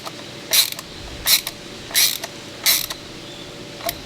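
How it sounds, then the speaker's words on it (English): Screws being snugged into a plastic light casing on a Hustler Raptor, heard as close, short creaking squeaks in about five separate turns with quiet gaps between them. "You want to get these screws snug"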